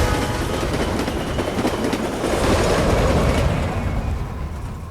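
A train rumbles along a railroad track in the Total War strategy game, a steady loud broadband roar with faint rhythmic clatter that swells slightly midway and holds to the end.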